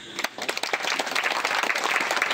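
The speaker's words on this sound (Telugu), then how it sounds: "అద్భుతంగా కొట్టినాను చప్పట్లు" A group of people clap, starting with a few sharp separate claps that quickly build into steady, dense applause close by.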